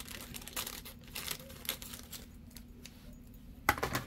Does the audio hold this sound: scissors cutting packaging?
yes